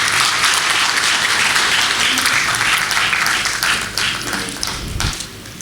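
An audience at an Urdu mushaira poetry gathering in Kuwait applauds to welcome a guest, giving steady, dense clapping from many hands that fades a little toward the end.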